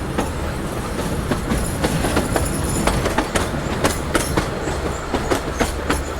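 Narrow gauge passenger train on the old Bilimora to Waghai line, rolling steadily with a dense rumble and repeated clickety-clack of wheels over rail joints, heard close from on board without talk.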